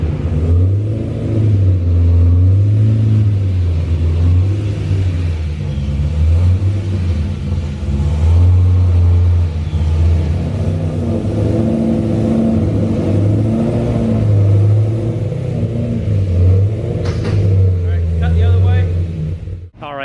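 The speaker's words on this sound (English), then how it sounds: "quick preview of what the exhaust looks like on the Z06" A loud, deep Z06 sports car exhaust rumbles and revs steadily with a throaty pulsing rhythm throughout, ending with a brief higher-pitched blip.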